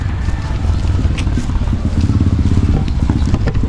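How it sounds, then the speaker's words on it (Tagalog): A new motorcycle's engine runs close by with a steady, loud low rumble, pulsing throughout the short stretch, with faint voices in the background. "Bago motor mo ah."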